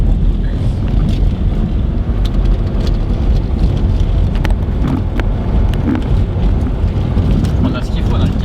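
A 4x4 rattles and rumbles along a sandy, corrugated dirt track, with continuous loud low-frequency road and engine roar, vehicle vibration and wind buffeting, while voices speak over it.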